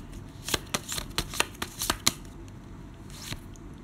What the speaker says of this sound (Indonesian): aku akan ngambil 2 pile dari kartu Lenormand